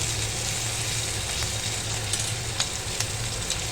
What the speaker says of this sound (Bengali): এবার আমি দিয়ে দিচ্ছি এই বড় পেঁয়াজ ক্যাপসিকাম একটা ক্যাপসিকাম আছে আর একটা বড় সাইজের পেঁয়াজ আছে ভালো করে নেড়ে চেড়ে নিচ্ছি